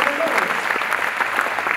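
Dense applause from a church congregation, steady and fairly loud throughout, with voices faintly mixed in.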